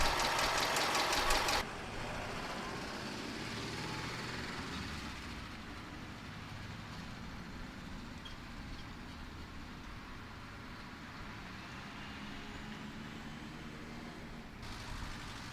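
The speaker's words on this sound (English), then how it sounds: "But if I rev it, which I'm about to, you'll see some smoke." A high-mileage 2003 Subaru Outback engine runs steadily with a low, continuous rumble that briefly rises at the very start, then holds an even drone throughout.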